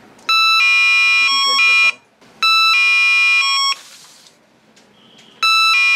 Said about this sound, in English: We can hear the ding-dong sound from the speaker when we press